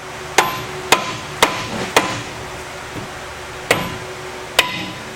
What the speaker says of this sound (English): Tap them lightly with a hammer